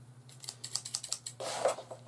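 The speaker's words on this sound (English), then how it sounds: "I'll use scissors today." Scissors cutting through leather for a pair of center-seam puckered moccasins, a run of close, crisp snips in quick succession followed by a longer rustling slide of the blades through the hide.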